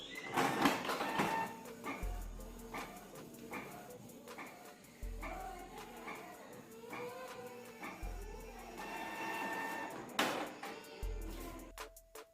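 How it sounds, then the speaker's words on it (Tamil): A Canon G3000 inkjet printer runs a test page: faint, quiet mechanical whirring with low thumping pulses repeating about every three seconds as the paper feeds. "இப்போ அகைன் நமக்கு இன்னொரு பேஜ் ஒன்று பிரிண்ட் ஆகும்."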